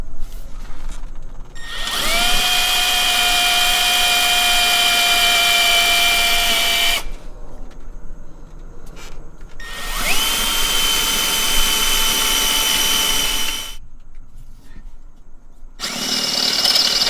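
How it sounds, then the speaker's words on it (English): Power drill boring a small pilot hole into a spot weld on a Honda CRX body, two long steady high whines with a short third start, close and loud with brief pauses between. "The next thing I'm going to do is drill a little pilot hole."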